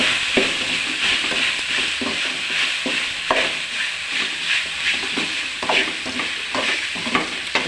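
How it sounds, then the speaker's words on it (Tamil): Crumbled idli seasoned with asafoetida is stirred in a frying pan, a steady sizzle and hiss with regular scraping strokes of the spoon running throughout. "அப்படியே கிளறிடுங்க"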